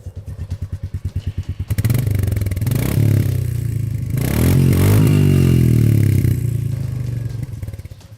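A Royal Enfield Meteor 350 motorcycle idles with a steady, close-up exhaust thump, then revs hard and holds a loud, throbbing drone before easing back down.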